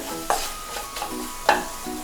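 Onion and tomato masala is stirred in a pan over sizzling heat, with several distinct scraping strokes of the spoon against the pan and a steady frying hiss beneath them.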